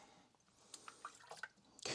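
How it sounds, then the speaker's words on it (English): Japanese whetstones are rinsed under fresh water in a sink. Faint drips and splashes come in irregular bursts over quiet background noise, ending in a louder gush of water. "Use my sink real quick with fresh water to rinse that off"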